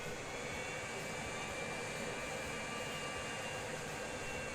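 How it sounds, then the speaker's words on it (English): A passenger airplane lands on a runway at a game airport, its jet engines giving a steady, distant roar with a hissing, whooshing wash that holds evenly throughout. "there is another plane from the Lure, just landing on runway"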